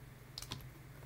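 Quiet, close typing on a computer keyboard during a programming lecture, a few light clicks over a low hum.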